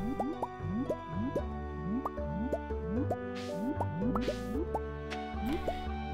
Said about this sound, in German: jetzt werden wir erstmal gleich nochmal eine Runde gießen